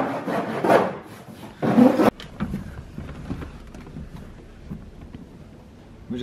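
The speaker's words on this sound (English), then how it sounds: "We're just cleaning up the edges a bit with the file." Hand file cleaning up the edges of homemade door cards for an E36 drift build, two loud rasping strokes followed by quieter scattered scraping and handling noises.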